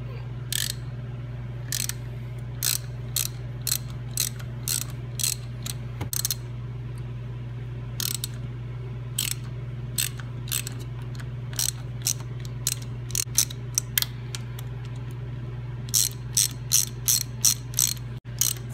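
A ratchet loosens 10 mm bolts on the power valve of a 2005 Polaris 600 Classic snowmobile, sounding as short bursts of crisp clicking that repeat steadily over a constant low hum, close and clear with no talking.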